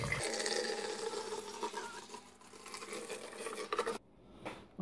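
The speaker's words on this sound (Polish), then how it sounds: "Proszek następnie wlewam czystą wodę RO." RO water poured into a plastic bottle holding Salty Shrimp GH+ mineral powder: a steady rushing, gurgling pour that fills the clip, then stops abruptly near the end, leaving a short faint splash.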